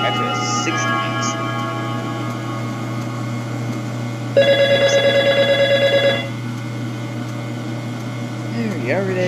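A telephone rings inside the horror video game Five Nights Before Freddy's, a steady electronic trill lasting about two seconds over a constant low hum and background fan-like noise.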